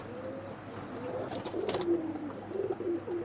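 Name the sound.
pigeons cooing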